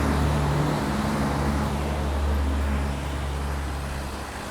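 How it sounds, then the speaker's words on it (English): A truck passes on the road, a loud close engine roar with deep droning tones that fades gradually as it moves away, with no voices. "gonna let the truck pass by"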